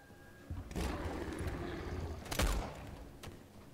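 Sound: gunshot in a video game

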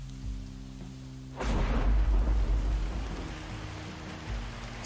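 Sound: thunder crack in a thunderstorm, from the video game Bear & Breakfast

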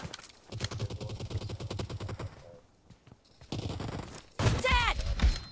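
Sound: gunfire in the video game PUBG Mobile

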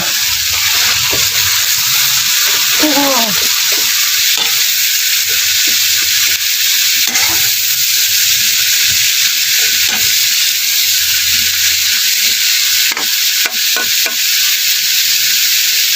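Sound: bitter gourd (ampalaya) sautéing in a pan

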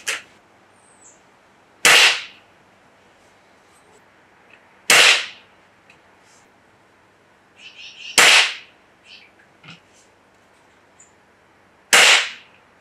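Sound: Gamo Wildcat .22 air rifle firing Gamo Rocket pellets

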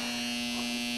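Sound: South Bend ten inch lathe running

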